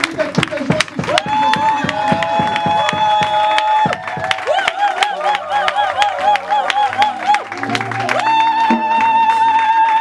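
A church congregation at a December gala dinner cheers and applauds, with a sustained sung or shouted tone ringing over bursts of clapping and crowd voices.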